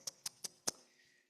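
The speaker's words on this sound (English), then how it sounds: "it makes this loud, hollow pop" A person makes four alveolar tongue clicks of the kind used in South African languages, each a sharp hollow pop spaced about a fifth of a second apart. The clicks are close and fairly quiet, with faint room tone after them.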